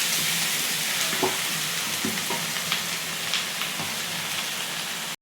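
Pistachios and raisins frying in ghee give a steady close sizzle, with a few soft scraping stirs near the start and middle and a sharp cutoff at the end.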